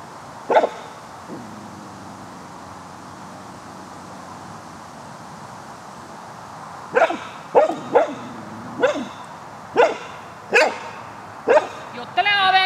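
Barking dog in a video game, with several sharp barks spaced across the second half after one early bark and a quieter whine, heard alongside a person talking.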